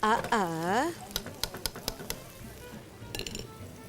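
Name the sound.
frying boiled bottle gourd in pan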